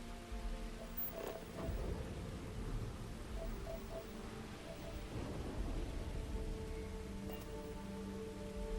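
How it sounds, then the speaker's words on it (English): A thunderstorm in Starfield brings steady, dense rain hissing on surfaces, with low thunder rumbling in the background throughout. "I do enjoy the sound of a storm."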